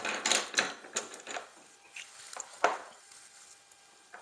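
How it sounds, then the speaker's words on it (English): Bits get scraped off a watercolor pencil in an art studio, close up: a quiet, irregular run of short scratchy clicks and scrapes with gaps between them. "scrape off some bits of it"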